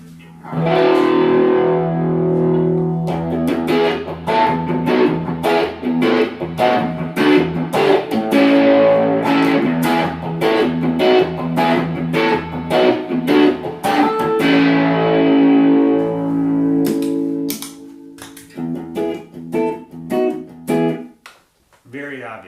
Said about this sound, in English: He had a phaser, an MXR Phase 90 or 45 pedal that he set very slow.